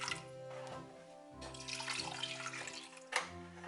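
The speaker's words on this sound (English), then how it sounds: "add in 2 cups of water." Water pours steadily into a cooking pot on a stovetop while chocolate pudding is being made, a close, continuous splashing stream with a brief louder gush near the end.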